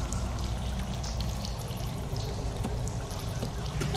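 Rushing water in a tabletop D&D session ambience, a steady, continuous broadband flow with no breaks and no voices.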